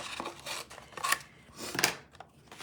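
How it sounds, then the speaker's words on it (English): Scissors snip through cardstock while a stamped card is being trimmed, a few distinct close crisp cuts spaced about a second apart with faint paper rustle between them. "grab my scissors and I'm gonna trim this off"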